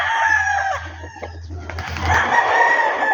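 Game-farm stags, young fighting roosters, crow loudly nearby, drawn-out strained calls with clucking and other fowl sounds in the background.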